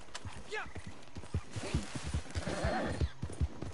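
Horse hooves clip-clop in Red Dead Online, a steady galloping rhythm of close thuds with a brief whinny early on, running under game sounds and a voice talking.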